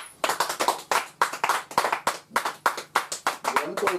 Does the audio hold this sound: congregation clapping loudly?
yes